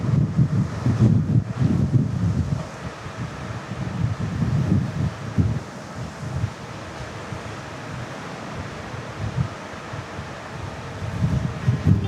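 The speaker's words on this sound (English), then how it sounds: "Kind of get blasted with some wind here." Gusty wind on a cruise ship deck in stormy weather buffets the microphone in loud, low rumbling bursts, easing briefly and then surging again.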